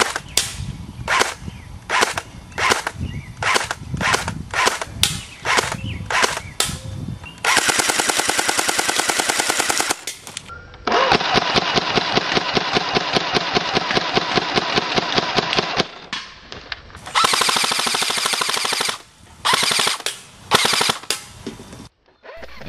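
A Well R6 M4A1 airsoft rifle firing on full auto: a run of single sharp shots, then several long, fast mechanical bursts with brief pauses between them, loud and close with no talking.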